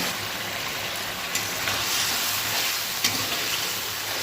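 Spice paste being stir-fried in a pan for a thin carp curry: a steady, close hiss of sizzling with faint scraping now and then, no voices.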